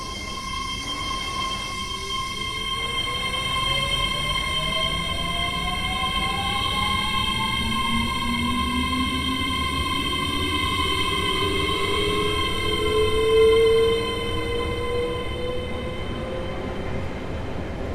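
A Class 805 'Evero' EDMU train in Train Sim World 6 runs steadily, its rising electric traction whine sweeping upward in pitch over a constant rumble, with tonal hums throughout.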